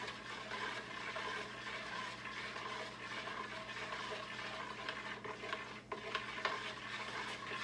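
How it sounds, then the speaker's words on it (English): Sugar is stirred steadily in one direction into a rosemary hydromel mix, a faint continuous swirling and scraping with a soft watery wash and no speech. "we're going to sit here and stir this in one direction"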